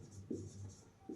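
Chalk or marker writing on a board during a maths class, heard as a few short scratchy strokes, close and faint, with no speech.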